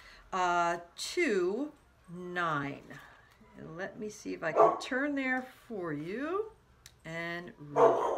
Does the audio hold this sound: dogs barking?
yes